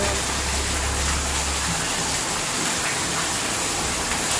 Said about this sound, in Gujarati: વરસાદ તો બંધ થવાનું નામ નથી લેતો